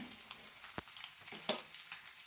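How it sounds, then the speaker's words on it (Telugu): Four torn garlic cloves sizzle in hot oil for a tempering before ridge gourd fry, a steady close crackle with a few sharper pops and spatters, no talking. "ఇప్పుడు చిరిగిన నాలుగు వెల్లుల్లి వేసుకుందాం"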